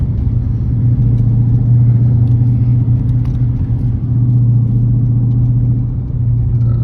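Dodge Challenger R/T with straight pipes and a K&N air filter driving, its exhaust a loud, steady low rumble close by that swells slightly as it revs, with no talking.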